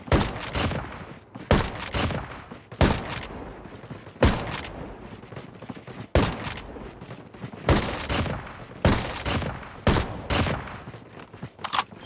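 Weapon fire in Call of Duty Mobile: about nine sharp, loud bursts of rapid automatic shots at a fast, regular pace, separated by short quieter gaps carrying low game ambience.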